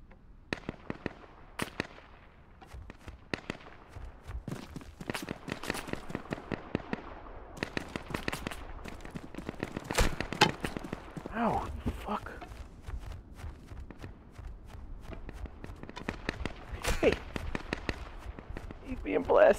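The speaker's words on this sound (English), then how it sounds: "They got machine guns and stuff." Machine gun fire in the Duckside video game, sharp bursts of rapid cracks in irregular clusters, some close and loud, others thinner, with a voice talking in between.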